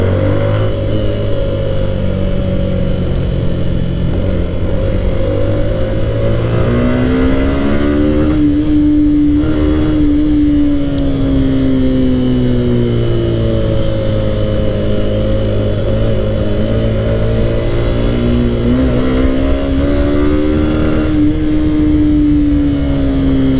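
Suzuki Intruder cruiser motorcycle is ridden at speed, its engine droning steadily with rising and falling revs as gears change, loud and continuous with wind rush throughout.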